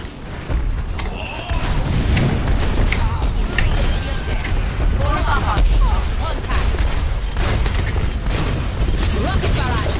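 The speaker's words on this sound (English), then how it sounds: "Rocket barrage incoming." Pharah's rocket barrage ultimate in Overwatch fires a dense, continuous volley of rocket blasts and explosions, loud and sustained over the full stretch, with in-game voice lines and effects mixed in.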